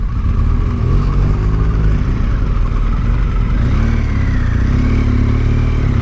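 A Honda Goldwing motorcycle engine drones loud and steady while riding on a road, its pitch rising and falling gently with the throttle, with constant wind and road rumble beneath.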